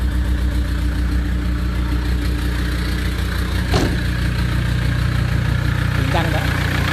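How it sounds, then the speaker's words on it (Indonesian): A Toyota Innova with a 2KD diesel engine idles steadily, its exhaust giving a continuous low, even rumble, with a couple of faint clicks over the drone and a voice speaking briefly. "Dengerin knalpotnya."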